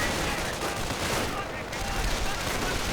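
Dense, continuous battle noise from a war video game, with rifle fire and artillery blending into a steady crackling roar that stays loud throughout, without clearly separated individual shots.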